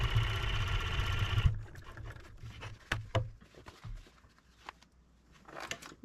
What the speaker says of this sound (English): So next I'll show how to machine sew the other darts.